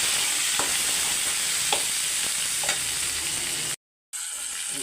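Steady sizzling of onions and tomatoes sautéing in a pan, with a few soft stirring scrapes, then a brief drop to silence before the sizzle resumes.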